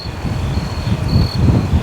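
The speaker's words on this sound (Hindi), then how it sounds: "कुछ कीड़ों की भी आ रही है।" Insects chirp near the seaside lighthouse at Cape May, New Jersey, a steady high-pitched trill over a loud rumble of wind noise buffeting the microphone.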